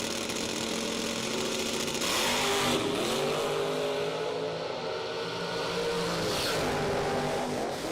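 Drag racing cars, including a 1968 Camaro, roar off the start line at an American doorslammer event, loud engine revving and accelerating with tire noise, the pitch sweeping upward as they launch and pull away.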